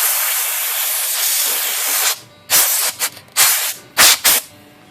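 Compressed air blasts through the type bars of a Smith Corona typewriter during cleaning: a long steady hiss, then several short, sharp bursts of air up close.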